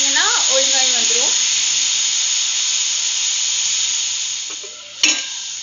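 Anchovies sizzle steadily in a hot pan with onions, a broad frying hiss running throughout; a voice speaks briefly at the start, and a sharp clink of the spatula or lid lands near the end.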